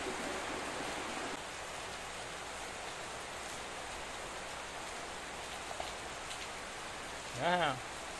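Steady rain pours down in a dense, even hiss, with a brief voice-like call near the end.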